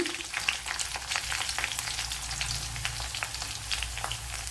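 Green chilli and ginger frying in hot oil in a pan for broken wheat upma, a steady close sizzle with light crackling spatters and faint stirring throughout, no voices.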